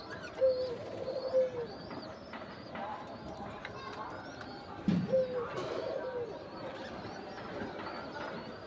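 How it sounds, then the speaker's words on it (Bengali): Doves of several colours coo among aviary birds, soft rounded calls near and moderately loud, a sharper flutter or scuffle midway, with a person talking over much of it and other chirps in the background. "বিভিন্ন রঙের ঘুঘু পাখি আছে এখানে"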